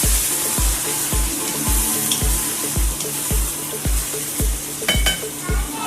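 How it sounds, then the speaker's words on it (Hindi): Chicken fries in hot oil with garlic and ginger, a steady loud sizzle that goes on throughout, broken by regular scraping strokes of a spatula against the pan. "चिकन को तब तक फ्राई करना है लहसुन अदरक को ये देखिए ब्राउन करके"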